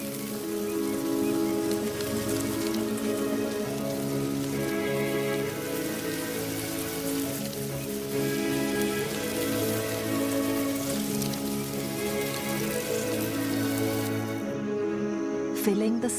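First raindrops falling on softening ground in the wild, a steady soft patter of rain hitting the surface throughout, with a faint background hum.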